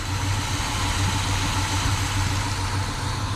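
A 1957 Chevy Bel Air, running again after thirty years, idles smoothly and steadily up close, its low even engine rumble continuous with no voices over it.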